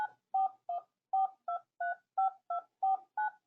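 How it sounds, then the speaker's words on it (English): Touch-tone keypad on the iPhone Phone app dialing a number: ten evenly spaced DTMF beeps, clear and close, with no other sound. "You simply type the number in"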